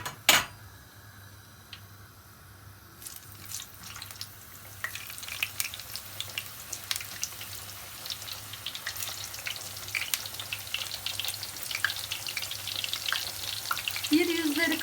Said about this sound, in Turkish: Şimdi kabaklarımızı kızartmak için